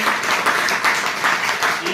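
Loud, steady applause from an audience at a business leadership event in Hisar, Haryana, with dense clapping that swells in repeated waves across the whole stretch and a voice faintly mixed in.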